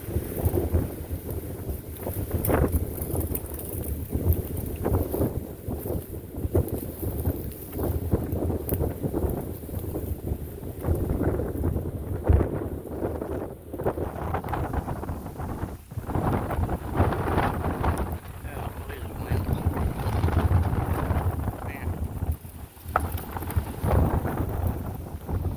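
Strong wind of at least 40 miles an hour blows through Shawnee Forest in southern Illinois, a loud, continuous rushing roar with gusty swells and heavy buffeting on the microphone throughout.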